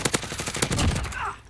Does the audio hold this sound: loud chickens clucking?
no